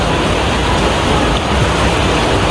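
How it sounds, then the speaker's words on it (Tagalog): Heavy rain pours down in a loud, dense, unbroken roar that stays steady and strong, with no other sounds standing out. "Kasi walang tigil tong ulan. Tignan nyo naman Palakas ng palakas."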